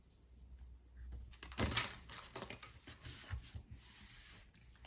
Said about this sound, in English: let's do some shuffling so we can pull 6 tarot cards for you